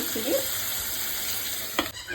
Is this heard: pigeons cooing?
no